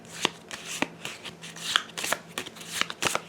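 Playing cards shuffled by hand during a board game session, a series of crisp riffling bursts and soft taps close by, with no voices.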